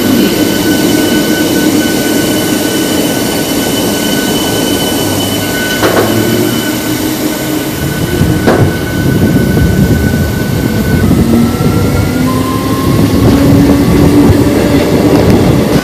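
A local train rumbles steadily along the tracks toward Belur Math station, loud and close, with wheel squeals and clattering over about sixteen seconds.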